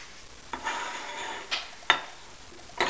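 Brownie mix being spooned out into a pan: a few scattered scraping and clinking taps of a spoon against the bowl and pan at steady intervals, close and moderately loud over a soft background hiss, with no talk.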